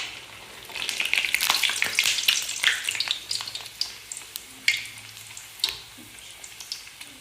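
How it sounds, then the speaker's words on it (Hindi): Aloo puri dough dropped into hot oil, bursting into a loud bubbling sizzle that settles into a quieter crackle broken by scattered pops and taps. "अब हम डालेंगे इसको ऑयल में। मैंने ऑयल पहले से गर्म रखा हुआ है।"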